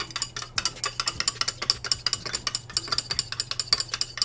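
Homemade foaming face wash ingredients are stirred in a container, giving a quick, steady run of light clicking scrapes and taps, close and fairly faint with no voices.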